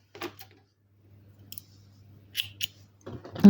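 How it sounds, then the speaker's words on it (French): Scissors snip through crochet yarn after finishing a small crocheted Christmas star, giving a few short, crisp cuts close by, spread across a quiet background with a faint low hum. "on coupe le fil"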